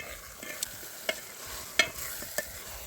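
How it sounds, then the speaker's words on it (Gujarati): A spoon slowly stirs bangda (mackerel) curry gravy as it fries in a pan: a steady sizzle with a few sharp metallic taps of the spoon against the pan's side. "હવે બાંગડા નાખી દી કેમ કે બધી ગ્રેવી પાકી ગઈ બધી છે હલાવજો ધીમે ધીમે ચમચી"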